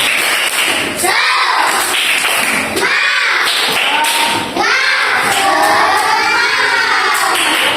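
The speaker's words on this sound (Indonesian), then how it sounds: "Untuk semangatnya coba tepuk semangat" Schoolchildren in a classroom perform a rhythmic spirit clap, sharp loud bursts of hands hitting together in patterned groups, mixed with children's voices and chanting, close and energetic.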